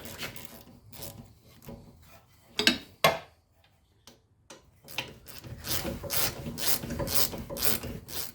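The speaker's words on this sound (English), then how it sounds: "you're just gonna loosen off your slider pins" An 8mm Allen socket on a ratchet loosens the rear brake caliper slider pins on a BMW F30, giving close, fast ratchet clicking in bursts with a couple of louder clunks in between, growing steadier toward the end.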